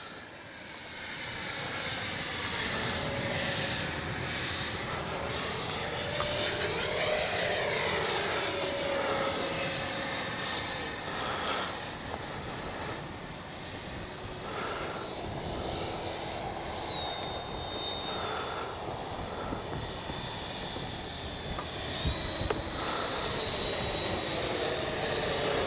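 Freewing 64mm BAC Lightning RC jet on its maiden flight, a continuous whining ducted-fan roar that swells and fades as the model passes overhead at a moderate distance.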